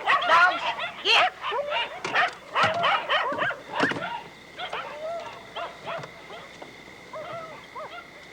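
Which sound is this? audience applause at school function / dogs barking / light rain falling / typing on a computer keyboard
dogs barking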